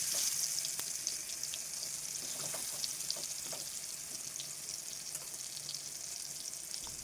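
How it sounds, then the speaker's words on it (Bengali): Eggplant rings frying in hot oil in a pan, a dense continuous sizzle with small crackling pops, steady and fairly close, no talking. "এবার একটি প্যান বসিয়ে নিয়ে তেল দিয়ে ভালো করে তেলটা গরম করে বেগুনের রিংগুলোকে দিয়ে দিচ্ছি।"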